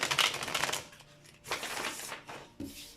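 Rapid riffling bursts of tarot cards being shuffled, two or three quick flurries separated by short pauses, close and fairly quiet.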